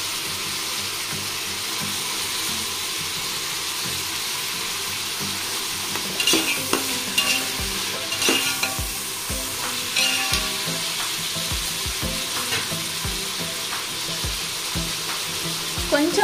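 Beans curry frying in a pan as it is stirred, with steady sizzling throughout and clattering spoon scrapes against the pan growing busier in the second half; no talking.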